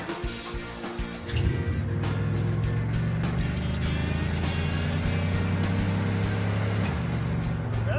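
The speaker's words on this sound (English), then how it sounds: "That's our best second gear shift of the day." A turbocharged Trans Am with a troubled transmission is driven and shifts into second gear: the engine drops briefly, then settles into a strong, steady drone with a rising whine, loud and close throughout.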